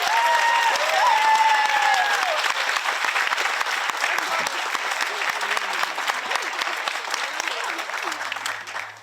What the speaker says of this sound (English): Please join me in a round of applause for our amazing faculty